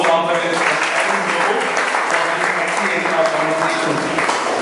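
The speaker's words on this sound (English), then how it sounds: "Please give a round of applause for Rahul Mahathir" Sustained applause from an audience at an indoor book discussion event at a historical research center, dense and steady clapping filling the room for several seconds without pause.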